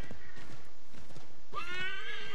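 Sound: horse neighing and hooves in Assassin's Creed III video game

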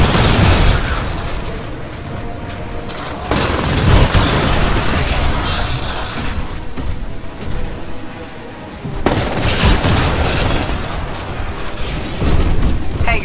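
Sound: explosions destroying turret in Titanfall video game

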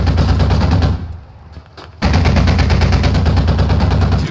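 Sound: 50 caliber machine gun firing in a video game

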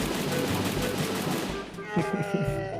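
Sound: gunfire in the video game Free Fire

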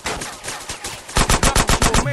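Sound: sniper gunfire in video game GTA San Andreas Remastered

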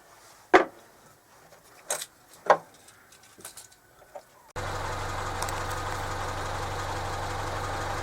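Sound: car engine started and idling

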